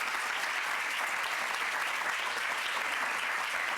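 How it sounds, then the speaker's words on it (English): Steady, dense audience applause fills a reception hall for the hostess, continuous and fairly loud throughout with no voices standing out. "a round of applause to our beloved hostess with the mostest, Miss Shahin Mafi"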